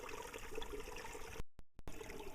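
Water seeps and flows under a small soil-and-liner stream dam at Joyce Falls, making a steady, fairly loud rushing trickle that cuts out briefly a couple of times.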